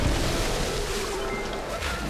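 River water rushes and surges in the Ice Age 2: The Meltdown video game, a steady, broadband wash of flowing water that holds at an even, moderate level with no voices.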